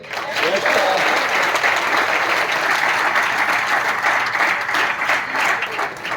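An audience at a university-level camp breaks into sustained applause, a thick wash of clapping that stays loud and even throughout, with faint voices mixed underneath.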